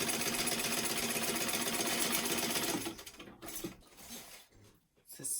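A sewing machine stitches a front pocket onto a fabric weekender travel bag, running loud and steady for about three seconds before stopping, followed by scattered handling clatter.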